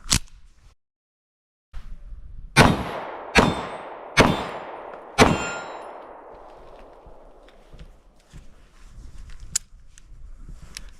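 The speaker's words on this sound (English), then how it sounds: "15 rounds of the Hornady Critical Defense Light 9mm" A Sig P365XL Spectre Comp fires Hornady Critical Defense Light 9mm rounds: four sharp close gunshots spaced about a second apart, each ringing out, with fainter pops and clicks afterward.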